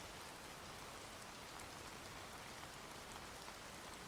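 Steady rain falls in an even, dense hiss that stays unchanged throughout, with no voices or other distinct sounds.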